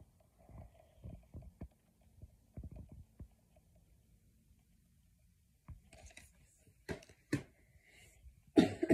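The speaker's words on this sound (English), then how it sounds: "Got this real cough." A man's coughing fit, several loud, sharp bursts close by after quieter throat sounds and shuffling.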